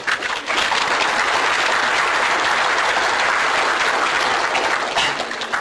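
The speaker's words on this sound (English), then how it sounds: "that's an applause line." Audience applause at a political talk: steady, dense clapping from a large crowd that fills the whole stretch at full strength, with no voices over it.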